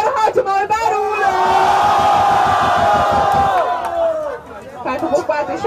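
Rap battle crowd at a Caxias vs Ilha semi-final roars and cheers loudly and continuously for several seconds, with shouts and whoops over dense chatter, then breaks into scattered voices.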